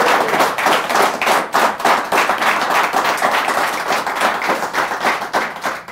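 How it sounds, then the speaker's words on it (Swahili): Steady applause from a studio audience at the close of a Swahili-language weekend car-advice talk show, a dense run of clapping that carries loud and unbroken for the full six seconds. "Wapi makofi yake?"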